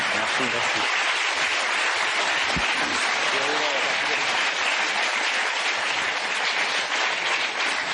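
A French television studio audience applauds two guests, a loud, sustained wash of clapping that fills the whole stretch, with a voice briefly heard over it.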